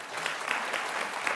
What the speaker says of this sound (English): Not to step on the applause here